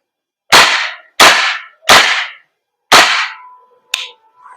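A Knights Armament SR16 E3 MOD2 CQB airsoft gas blowback rifle fires four sharp, loud semi-auto shots at uneven intervals, each a crisp crack with a short decay, followed by a fainter click and a brief rattle.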